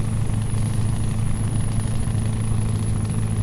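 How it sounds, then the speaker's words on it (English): Steady low diesel rumble from the E9 engine of a Mack Titan Superliner truck in Euro Truck Simulator 2, droning evenly throughout without talk. "Listen to the engine on this truck."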